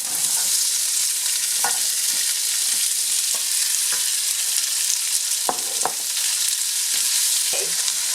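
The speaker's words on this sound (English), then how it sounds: "We're going to saute our garlic." Garlic and onions sauté in a pan, a steady loud sizzle with scattered clicks and taps of a utensil stirring, no voices.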